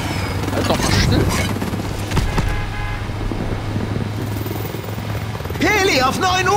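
A helicopter's steady rotor drone in the video game Call of Duty: Modern Warfare Remastered runs throughout, mixed with game sound effects and overlapping voices talking over it.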